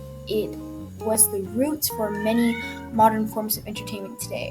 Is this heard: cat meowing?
yes